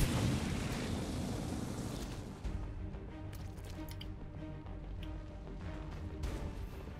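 A big blast in XCOM 2 as a purifier enemy is blown up, a loud broadband boom at the start that settles into a rumbling, crackling tail with scattered debris and game sounds over several seconds.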